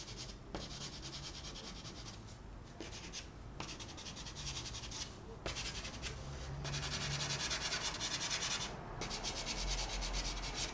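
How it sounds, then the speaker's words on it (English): Short chalk pastel strokes rub and scratch across paper while blending a portrait drawing, a steady dry scuffing with brief pauses between strokes and no voices. "So I'm just doing short little strokes to start to blend in things and incorporate them."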